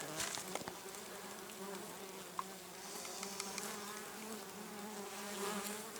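Dense, steady buzzing of many honey bees swarming close by in a forest in 40-degree heat, a continuous droning hum with no voices.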